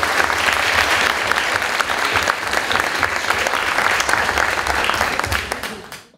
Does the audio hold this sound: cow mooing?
no